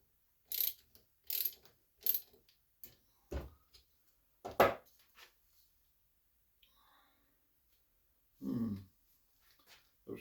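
A small notched clamp being tightened while making draw knife handles gives a few sharp, close ratcheting clicks in separate bursts. Quiet gaps fall between them, and one longer grinding click comes near the end.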